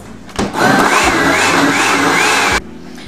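A blender runs at full power for about two seconds, blending fruit with mango pieces into a loud, steady whir that starts abruptly and cuts off sharply, with no talking.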